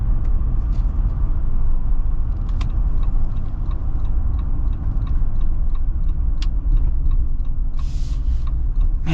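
Inside a 2025 Jeep Wrangler with a V6 and 8-speed automatic on large tall tires, a constant low road and engine rumble fills the cabin, with faint ticks and a brief hiss of air.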